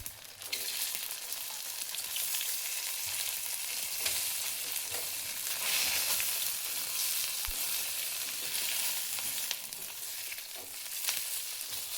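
Potato and semolina vadas fry in hot oil with a steady, dense sizzle and crackle that runs unbroken and close, with no voices over it.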